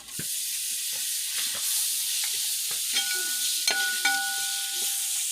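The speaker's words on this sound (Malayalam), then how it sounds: "ഇനി നമുക്ക് ഇതിലേക്ക് തക്കാളി ഇടാം" Chopped tomatoes go into a frying chicken curry masala and get stirred, a bright steady sizzle broken by scraping spoon strokes against the pan, close and alone with no talk.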